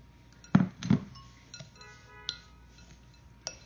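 A spoon mixes a sugar body scrub with coconut oil and orange in a glass bowl, giving a few sharp clinks and scrapes, two stronger knocks early, then fainter taps, with no talking.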